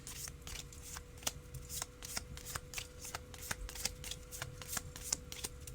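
A deck of tea leaf fortune cards shuffled by hand, a steady run of crisp riffling flicks and slaps close to the microphone, with a faint background hum throughout.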